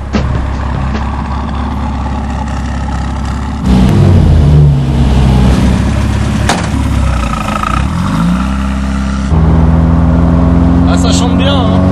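A tuned first-generation Opel GT with a 1.9-litre, 90-horsepower four-cylinder engine idles, then revs loudly in several rising and falling bursts close by, with a brief pause between runs.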